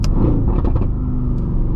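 Loud car engine rumbling close by as it drops a gear, a brief rev and crackle over a steady low growl.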